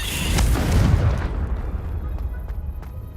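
Blasting-curse explosion from the Hogwarts Legacy video game: a single heavy, loud boom at the start that rolls off into a long, fading rumble.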